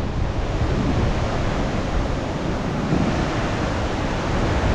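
Sea waves at Valiyaparamba beach, a constant broad roar of surf mixed with wind noise, steady and fairly loud with no distinct breaks between waves.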